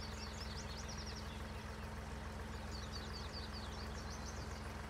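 A tractor engine runs with a steady, loud drone while it works a field pulling a sprayer loaded with liquid fertilizer, a continuous rumble throughout with no pauses.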